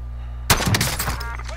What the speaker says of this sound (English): Taking effective fire! Receiving hostile fire!